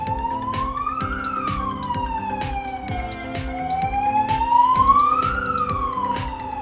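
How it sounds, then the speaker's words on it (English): An Australian police car siren wails continuously, its pitch sweeping slowly up and down in long cycles, loud and close with a steady pulsing rhythm underneath. "listen to the siren"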